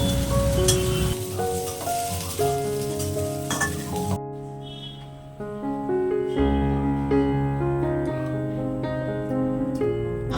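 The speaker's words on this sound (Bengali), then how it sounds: "সবজিগুলোকে একটু ভালো করে ভাজা ভাজা করে নিয়ে আমি খিচুড়ির মধ্যে দিয়ে দিলাম" Mixed vegetables for khichuri sizzle and crackle in a hot pan under steady stirring, with a musical backing playing throughout.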